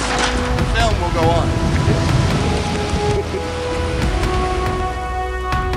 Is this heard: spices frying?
no